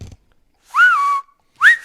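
A person whistling in imitation, with two loud, close whistles separated by silence. Each one swoops upward, and the first then holds a long steady note while the second is shorter and cut off.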